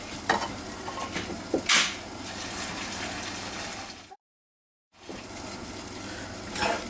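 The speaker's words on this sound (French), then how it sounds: "Nous allons mettre à glacer les petits oignons." Small onions glaze in a pan, giving a steady close sizzle and bubbling with occasional stirring scrapes. The sound cuts briefly to silence before resuming.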